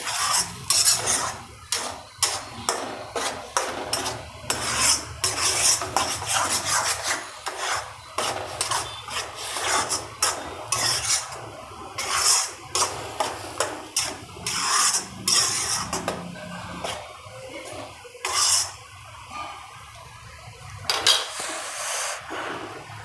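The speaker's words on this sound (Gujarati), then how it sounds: "હવે એને મિક્સ કરશું એટલા જ દૂધમાં આપણે ચડી જશે બીટ અને ગાજર" A spoon stirs grated beetroot and carrot in milk in a pan for Gujarati gajar beet barfi, making continuous close scraping and rasping with frequent metallic knocks against the pan.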